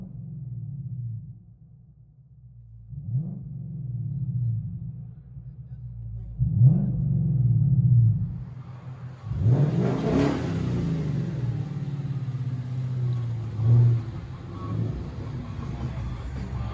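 Ford Mustang GT with a 5.0L Coyote V8 and loud aftermarket exhaust revs repeatedly, several sharp throttle blips rising over a deep idling rumble, close and loud, with brief voices in between.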